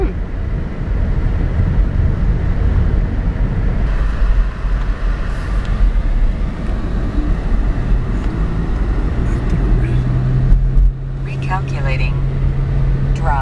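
A car drives home on a sunny day, a steady loud low road and engine rumble with wind noise throughout, a faint tone appearing in the second half and brief higher chirps near the end.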